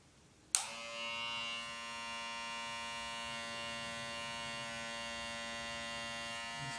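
An electric hair clipper switches on with a sharp click and then runs alone as a steady, close buzzing hum for several seconds during a noise test.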